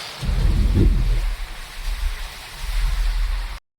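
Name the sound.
heavy rain falling in a street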